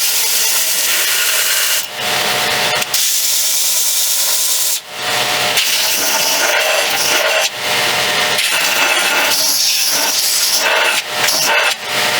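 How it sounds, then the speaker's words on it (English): An old sanding belt rubs forge scale off a freshly forged knife blade, loud harsh abrasive scraping in repeated strokes separated by brief pauses, with no talking. "I have an old sanding belt and I'm just going to use that to knock some of the forge scale off."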